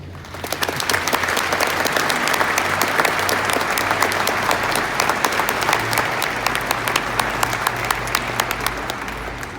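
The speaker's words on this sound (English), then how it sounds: "let's have a round of applause for everyone who is working and has worked for Conair and has supported us" A roomful of people at a Conair 50th anniversary celebration applauds the company team, sustained crisp clapping that holds steady and fairly near for nearly ten seconds, with no talk over it.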